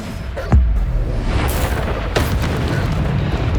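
Bombarda spell blasts in Hogwarts Legacy, heard as two loud booms about a couple of seconds apart over dense, rumbling game sound.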